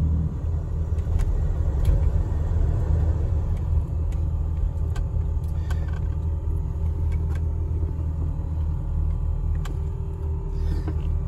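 A steady low engine rumble from inside a 1975 Ford Mustang II Ghia cruising along the road, with road noise and occasional light rattles throughout, no talking.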